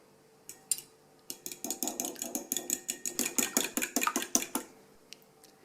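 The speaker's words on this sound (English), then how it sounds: "Combine all your wet ingredients in a bowl and whisk it together well." Quick metallic clinking of a whisk beating wet doughnut batter ingredients in a bowl, a fast run of close taps that builds, then stops abruptly.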